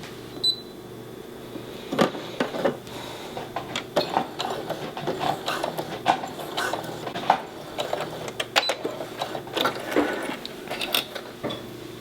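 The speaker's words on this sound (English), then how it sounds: "So we're just going to run a few stitches." A sewing machine running a few basting stitches on elastic for a shirred top, giving irregular mechanical clicking and whirring bursts at moderate volume with no talking.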